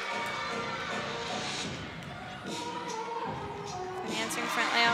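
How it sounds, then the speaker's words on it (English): Teammates cheer a gymnast from the corner of the floor during a women's college quad meet, a steady crowd din with scattered voices and thuds running throughout at moderate level. "her teammates cheering her on in the corner."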